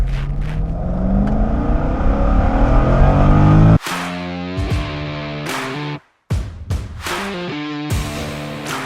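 A 2006 Chevrolet Corvette coupe in Monterey Red over ebony, 7,651 miles, loud and close: a steady rumble, then sharp revs that climb and fall several times with a brief cut near six seconds.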